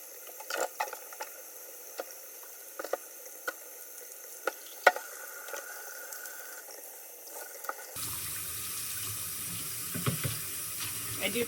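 Parts from a Wagner Flexio paint sprayer gun clatter and clink against a sink while being handled, then a tap turns on and hot soapy water runs steadily over them, close by.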